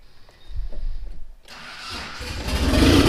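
A Mitsubishi 3000GT VR4 with a newly installed engine cranks and fires up, starter whirring for about a second before the engine catches and roars loudly, running rough and close by.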